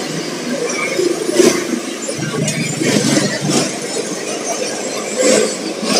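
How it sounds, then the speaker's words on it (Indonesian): Traffic on the Jakarta–Merak toll road heard from a busy rest area, with a steady engine drone, passing vehicles, and intermittent squeals and clatters. "Arus lalu lintas di jalan tol Jakarta Merak."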